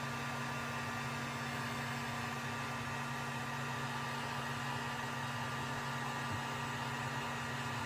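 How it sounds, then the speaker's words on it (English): A heat gun blows hot air over heat shrink tubing on a battery cable, giving a steady, close, unbroken whooshing roar with a constant motor hum beneath it for the whole stretch. "The heat gun works really well."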